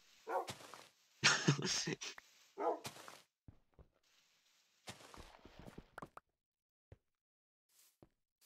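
Dogs in the Minecraft video game bark in several short yapping bursts at moderate level, followed by scattered quieter clicks and game sounds; no one speaks.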